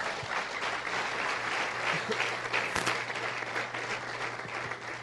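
A church congregation applauding during a fiery Wednesday service, steady dense clapping that fills the space for several seconds beneath a low electrical hum.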